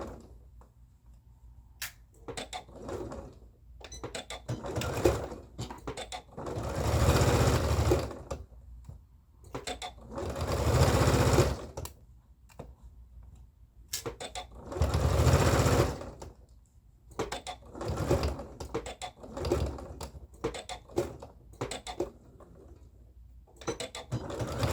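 A sewing machine stitches the front dart of a strapped dress (Simplicity 4265 pattern) in several loud, steady whirring bursts separated by quiet pauses, with faint handling clicks between runs.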